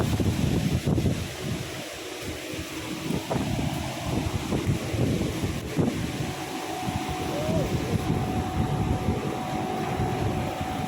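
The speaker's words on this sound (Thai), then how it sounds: "ลมแรงมาก ๆนะคะ" Strong wind buffets the microphone outdoors, a steady loud roaring rumble running throughout with gusty swells, while someone talks intermittently underneath it.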